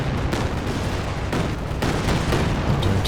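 Calliope rocket artillery firing in Company of Heroes 2, a loud rapid barrage of launches and blasts that rolls on continuously, with sharper bursts punching through near the middle and end.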